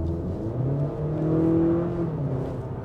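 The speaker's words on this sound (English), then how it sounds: "Let's start it up and go for a drive." The 2022 Acura RDX A-Spec's turbocharged 2-liter four-cylinder engine fires up and settles into a steady, moderately loud idle hum with a brief rise in revs, heard up close with no talking.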